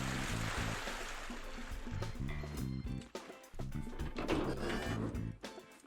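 Busy, choppy splashing and churning water from a paddle boat in the video game Scrap Mechanic, with repeated rhythmic sloshes, loud and close, running continuously with a few brief dips.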